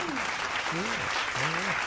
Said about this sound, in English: Applause, Addison.